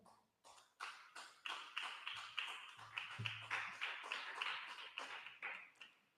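Clapping at a church service, faint and fairly sparse, with a rhythmic series of separate sharp claps and a little murmur in the background.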